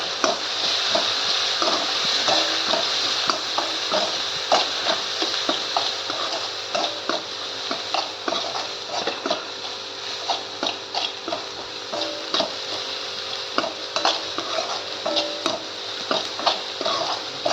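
Spices, turmeric and cauliflower with potato are stir-fried in a pan, a continuous sizzle broken by regular scraping and clinking strokes of a spoon against the pan, close and steady throughout.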